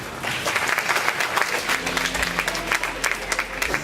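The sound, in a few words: applause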